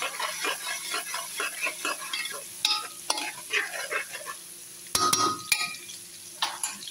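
A blended tomato and onion mixture sizzles and spatters in a pan, with stirring scrapes and a few metallic clinks of a utensil against the pot.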